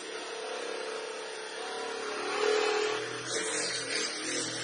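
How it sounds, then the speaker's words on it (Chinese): A Booster Lightsaber massage gun runs in its increasing-speed mode. A steady motor whir holds through the clip and swells slightly toward the middle, close and alone with no talk. "递增模式的话它就是转速这样慢慢增加"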